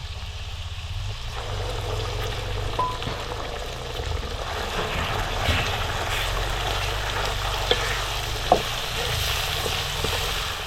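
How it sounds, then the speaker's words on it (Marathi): Ground paste of roasted onion and coconut sizzles in oil with tomato in a pan for a village-style potato curry, a steady close frying hiss broken by occasional spoon scrapes and taps. "हे वाटण आपल्याला छान असं परतवून घ्यायचं"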